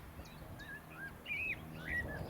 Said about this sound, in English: the old chiff-chaff.